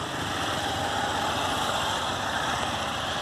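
A motorcycle on a practical riding test course, its engine humming at a steady, fairly loud pitch throughout, with no clear rise in revs and no talking.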